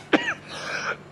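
An elderly man gives a single short cough or throat clear, close and fairly loud, followed by a brief faint vocal trailing off.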